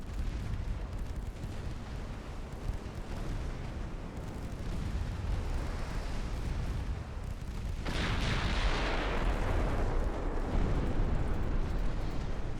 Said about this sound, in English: Slight broadside, please, so we can get more of our 3-inch guns firing.